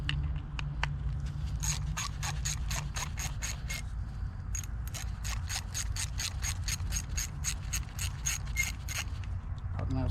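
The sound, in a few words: removing two screws from a Mercury SportJet fuel pump with 5/16 wrench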